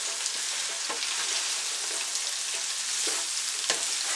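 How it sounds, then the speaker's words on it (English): Carrots fry on high heat in a pan, giving a steady close sizzle with occasional sharp clicks of stirring. "And I'm frying all this now on high."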